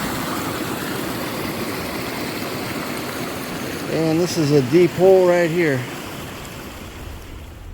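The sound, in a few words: creek waterfall flowing down the bank into a river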